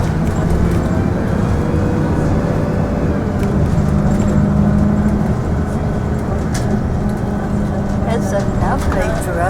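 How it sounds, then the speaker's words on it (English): A bus climbs Dyer's Pass Road and slows in a slow vehicle bay, its engine and road noise a steady low rumble beneath continuous talk. "Looks like the bus is slowing down in the slow vehicle bay."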